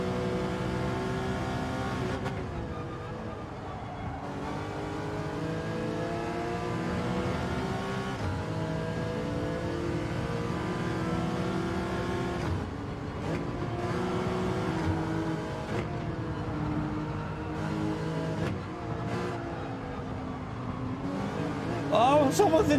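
Race cars in the video game Gran Turismo 7 during a manufacturer test race, with engines droning and shifting pitch, rising and falling as cars accelerate and pass, and a voice talking over them.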